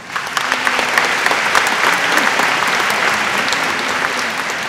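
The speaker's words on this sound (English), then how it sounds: "I'd like to invite the students to show their appreciation for a small round of applause." Students applaud a recognition at a school gathering, a steady round of close, dense clapping from a room full of hands that holds even for several seconds.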